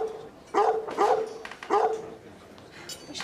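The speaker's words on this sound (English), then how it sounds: "We shouldn't let the waiters tease the dog like that." A dog barks in three or four short, sharp yaps with a slight whimpering tone at a restaurant where waiters tease it, close and clear over a quiet background.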